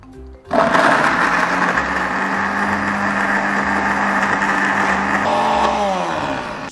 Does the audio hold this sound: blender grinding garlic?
yes